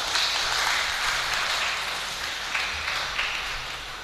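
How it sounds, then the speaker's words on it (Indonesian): Audience at a village mosque competition award ceremony clapping for honoured guests, a broad, continuous patter of many hands that swells slightly at the start and tapers gently toward the end. "tepuk tangan untuk Bapak dan Gulan"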